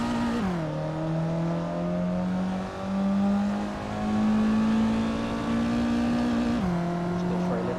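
Race car in a racing video game holding a steady high engine drone, dipping as it shifts down near the start and again near the end, with faint talk underneath.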